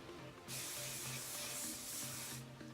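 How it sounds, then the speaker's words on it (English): Hairspray hisses out of an aerosol can in one steady burst of about two seconds, close and fairly soft, in a quiet room. "Then I just spray my whole head"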